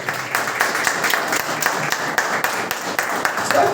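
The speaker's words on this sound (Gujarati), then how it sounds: "જોરદાર તાળી થાય, જબરદસ્ત તાળી થાય સાહેબ" Dense, steady clapping from an audience at a speech, sustained throughout with a few sharper claps standing out near the end.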